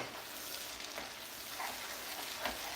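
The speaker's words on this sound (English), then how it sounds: "You stir this like that." A pot of pigtail stew is stirred slowly over low heat, with soft scraping and quiet bubbling sizzle, faint and close.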